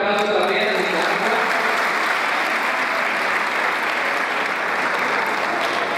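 An audience at a Focolare cultural night applauds for Nicaragua, the clapping loud, dense and sustained from start to finish, with a brief voice at the very start.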